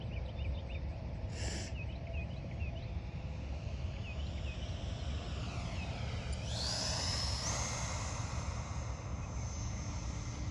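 A Freewing 80mm F9F-8 Cougar electric ducted-fan RC jet makes a slow low pass on a wet day, a faint distant whine that rises and sweeps past over steady background hiss, with birds chirping.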